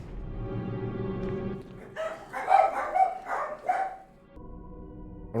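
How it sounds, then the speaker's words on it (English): Dogs barking in the Resident Evil HD Remaster video game, a short cluster of four or five barks over steady low game ambience, moderately loud with no talk over them. "sorry about the dogs barking like crazy"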